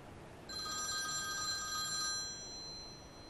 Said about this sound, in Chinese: 电话响了，怎么不接？